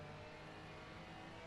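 Porsche GT3 race car in Assetto Corsa Competizione at the Hungaroring, its engine a steady, dense roar held at high revs throughout, loud and close with no voices over it.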